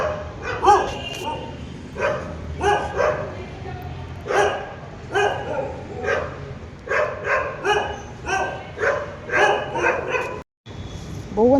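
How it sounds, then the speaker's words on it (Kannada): A dog barks repeatedly at home in a steady series of near, loud barks and yips, with a few whimpering notes, and people's voices are mixed in among the barking. "ಗುಡ್ಡೋ ನೋಡಿ ಎಲ್ಲ ಬೊಗಳು."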